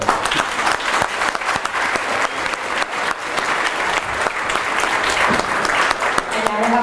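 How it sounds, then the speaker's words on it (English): An audience claps steadily and fairly loudly after young performers at a DARE event are congratulated; dense, sustained applause fills the room, and a voice briefly comes through near the end. "How about a round of applause for them?"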